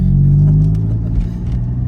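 A loud sports car engine rumbling and droning up close, with scattered sharp pops and crackles from the exhaust.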